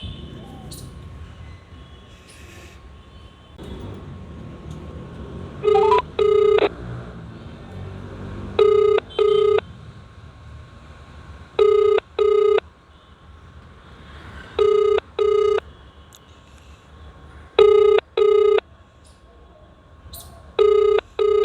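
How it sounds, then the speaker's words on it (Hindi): Repeated telephone ring-back tones while a number is being dialed, evenly spaced double beeps sounding over a faint background hum. "एक बार फिर से कोशिश करते हैं दूसरे नंबर से फ़ोन लगाने की"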